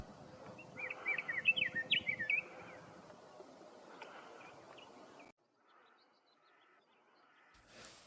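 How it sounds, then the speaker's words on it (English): Harsh, rapid chattering calls of cactus wrens ring out in a short burst, then fade into quiet desert ambience in California with a few faint distant chirps. "Cactus wrens, another typical bird of the desert out here in California."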